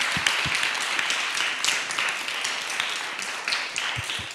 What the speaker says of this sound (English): I would like to ask for a big round of applause for all of them